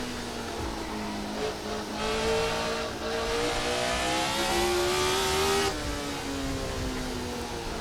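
Race car engine in Assetto Corsa, revving loudly as the throttle is eased in, pitch climbing steadily through the gears with a whine, then dropping back briefly before rising again.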